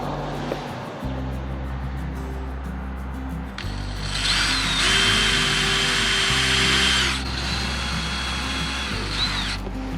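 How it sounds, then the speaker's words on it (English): A power drill bores pre-marked hinge holes in a chicken coop camper build, running in two long, loud whirring bursts after a quieter lead-in. "we're going to drill those holes out next"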